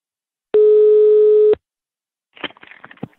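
A telephone line tone while a call is placed: one loud, steady single-pitch beep lasting about a second, then silence and a few faint clicks and rustles on the line.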